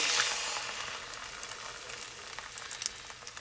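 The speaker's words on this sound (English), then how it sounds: "in the pan we go, and it's going to sizzle away" Steady crackling sizzle of food frying in a hot pan, close and continuous with faint popping spatters.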